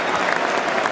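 A football stadium crowd applauds a tiring player as he goes off, the clapping steady and broad across the stands for the whole brief moment.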